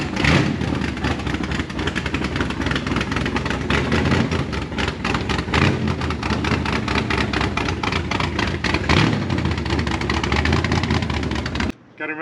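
Off-road hot rod engine running loud and close as it drives out of the shop, a continuous rough rumble with revving swells throughout, cutting off abruptly near the end.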